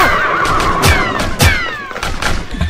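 A horse whinnies in several loud, descending neighs with a few dull thuds of movement between them, close and clear with no talking.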